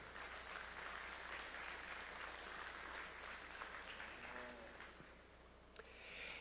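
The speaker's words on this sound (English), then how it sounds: "join me in a huge round of applause for BMO" An audience at the BMO Junior Beef Extreme cattle show in Regina applauds for the sponsor, a steady, moderately distant patter of clapping that thins out near the end, with a brief knock or two.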